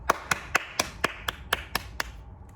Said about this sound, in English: Let's give a round of applause for Parvi Goel.